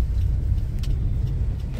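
A car drives slowly into parking at a showroom in Mumbai, a steady low engine rumble close by with a few faint higher clicks over it.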